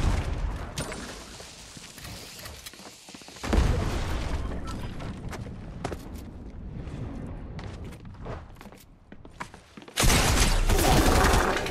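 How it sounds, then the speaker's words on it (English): Fortnite battle: a sudden grenade blast booms out, followed by bursts of gunfire and a second loud explosion near the end, with constant game noise between the hits. "Oh crap, I almost grenaded myself."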